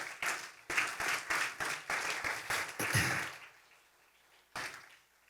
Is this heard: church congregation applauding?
yes